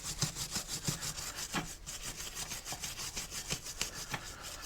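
Rust and corrosion being scraped off the brake parts of a 2011 Chevrolet Impala during a brake repair, a steady run of quick rasping strokes with sharper scrapes now and then, close by and alone.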